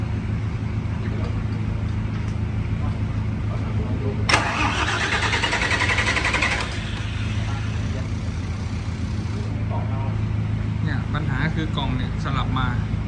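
A Toyota 6UZ V8 engine at a used-engine yard cranks briefly and catches, then settles into a steady idle, close and moderately loud, with people talking over it.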